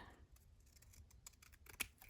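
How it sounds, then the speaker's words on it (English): Scissors cutting paper for a scrapbook layout, heard as a few faint, close snips and crisp clicks spread unevenly over a quiet room background, with one sharper snip near the end. "Let's just cut it down with scissors at this point because I can get a straight,"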